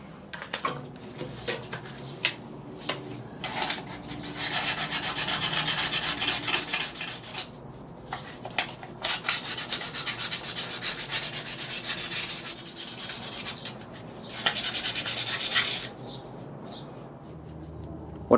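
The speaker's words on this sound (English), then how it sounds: "Went in and sanded down the whole set of wheels." Sanding corrosion off Enkei CPS-2 alloy wheels by hand, a steady dry rasping scrape in long continuous strokes broken by short pauses and light knocks, close and fairly quiet, with no talking.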